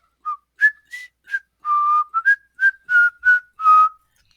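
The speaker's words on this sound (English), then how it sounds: "He began to whistle to keep his spirits up." A person whistles a simple tune, about a dozen clear notes, some short and some held, close and solitary against silence.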